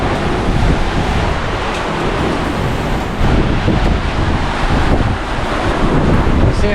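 Strong wind gusts roaring across a sailboat at sea on the Indian Ocean, loud and continuous, buffeting the microphone with surging bursts and the wash of waves beneath.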